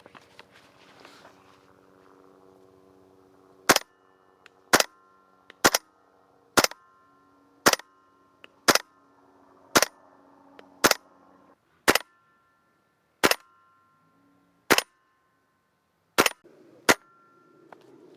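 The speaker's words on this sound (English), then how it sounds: "let's get some BBs on it" WE SCAR-H airsoft gas blowback rifle firing BBs at a target about 40 meters away, a dozen sharp single shots at an uneven, roughly one-per-second pace over quiet outdoor background.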